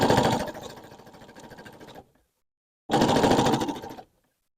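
Sewing machine stitching through the layers of a fabric quilted postcard, two loud close bursts of rapid mechanical stitching about two seconds each, separated by a brief pause.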